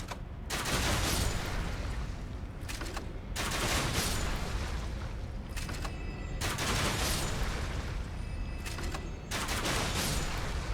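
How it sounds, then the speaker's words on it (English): Continuous rapid gunfire from shooting enemies in the video game Elden Ring, loud and dense with brief pauses between sustained bursts, heard without speech. "I'm actually just going to shoot all these guys"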